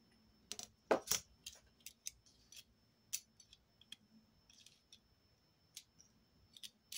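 Scissors trimming excess paper while making a mini accordion album, a few quiet, close snips and clicks spread irregularly over near silence.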